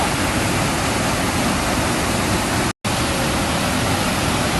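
Heavy rain and rushing flood water pour at a tourist spot near Mount Pandan, a dense, loud, constant hiss-like roar broken by one short silent gap.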